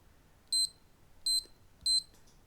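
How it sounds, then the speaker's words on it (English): Three short, high electronic beeps from a parkrun timing watch screen, evenly spaced under a second apart over a quiet room background. "beeps from the timing screen"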